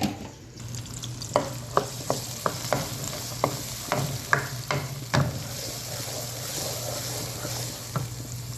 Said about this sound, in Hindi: ये यहाँ पे इनकी भुनाई हो रही है लहसुन अदरक और हरी मिर्च में